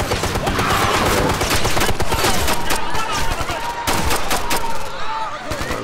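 Rapid gunfire from the video game Ghost Recon Future Soldier, with dense bursts of shots crackling throughout, loud and continuous, mixed with game sounds and possible voices.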